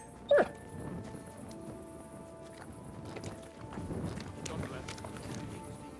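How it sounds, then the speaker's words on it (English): A single sharp dog bark rings out early in the medieval video game Kingdom Come: Deliverance II, followed by footsteps, ambient game sounds and voices talking. "you silly doggy."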